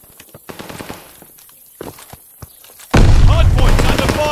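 Gunfire at a hardpoint in the video game Call of Duty Vanguard, quick bursts of shots and thumps, then a loud sustained barrage of rapid fire filling the last seconds.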